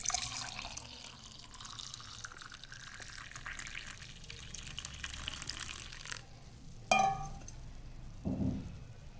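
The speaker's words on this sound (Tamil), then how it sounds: "இப்போ நம்ம இந்த டம்ளரில் ஊற்றிக்கலாம்." Warm homemade coconut milk pours into a tumbler with a steady liquid stream, then splashes and a short drip near the end, heard close up with no talking.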